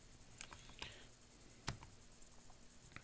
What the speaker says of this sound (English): I then go to my calculator and type that in.